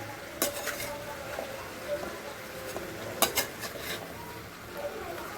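Vegetables for Kerala-style avial being mixed in a pot, with soft scraping stirs and a few sharp clinks of a spoon against metal, quiet and close, over a faint background hiss.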